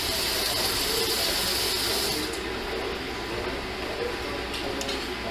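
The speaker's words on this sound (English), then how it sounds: "Let me turn that water off." A kitchen tap runs with a steady broadband rush of water that cuts off partway through, leaving quieter room noise behind.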